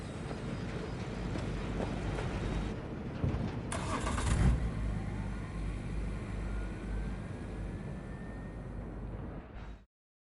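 A car in Cyberpunk 2077 starting up and driving off, engine rumble steady and fairly close with a surge partway through, fading out abruptly at the end; no talk.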